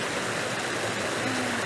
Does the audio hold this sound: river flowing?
yes